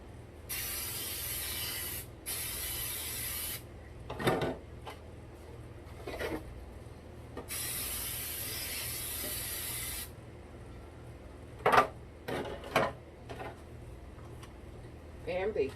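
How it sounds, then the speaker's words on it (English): Baking spray hissing from an aerosol can onto a cake pan for carrot cake, two bursts then a longer one, close and clear, followed by light clicks and handling noises. "So I'm going to spray the pan with ham"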